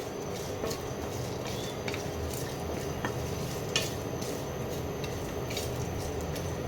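Spices being stirred in a heating pan give a steady low sizzle with repeated light scraping and clinking strokes throughout.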